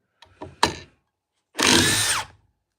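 A few short clicks and taps, then a single high-pitched whirring burst of a Surge Gen 2 impact driver with a 3.0 high-output battery spinning for about half a second before winding down.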